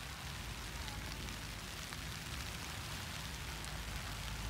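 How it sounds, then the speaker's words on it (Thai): Steady rain falling outdoors where a hen is brooding eggs, a soft continuous patter and hiss, fairly faint and even throughout, with no voices. "ตอนนี้ฝนตกพอดีเลย"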